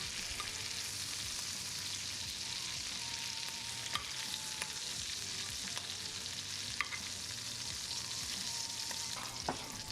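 Lamb chops frying in butter in a pan give a steady, close sizzle with soft crackles and occasional pops, continuous and without speech.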